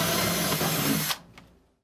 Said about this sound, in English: we'll go ahead and begin to drill our pilot holes